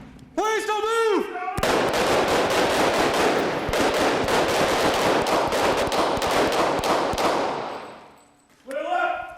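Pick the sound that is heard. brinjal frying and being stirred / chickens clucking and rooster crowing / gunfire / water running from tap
gunfire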